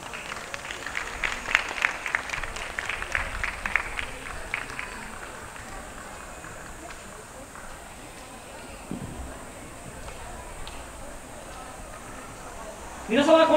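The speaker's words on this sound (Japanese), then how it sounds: "大きな拍手でお迎えください。" Crowd applause at an outdoor yosakoi dance festival, a burst of clapping early on that fades into quieter ambience, with a loud voice or sound cutting in at the very end.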